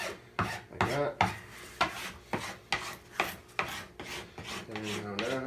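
A hand file trims wooden edge banding in about a dozen short, rhythmic rasping strokes, each one a crisp scrape, close and fairly quiet with no talking.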